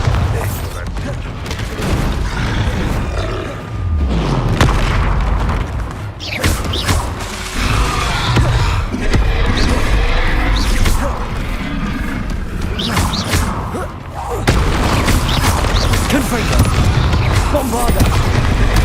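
Confringo fire spell explosions in Hogwarts Legacy, a string of loud booming blasts and crashing impacts mixed with rumbling game sound, dense and close, while a voice talks over parts of it.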